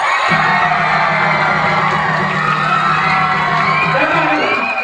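A large cheerleading-contest crowd in Thailand cheers, whoops and shouts continuously and loudly, a dense wall of many voices with a steady chant-like undertone throughout.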